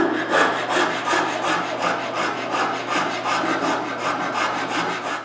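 A hand rasp smooths the rough bottom of a cut between two saw kerfs in wood, making steady, close back-and-forth scraping strokes in an even rhythm, with no voices.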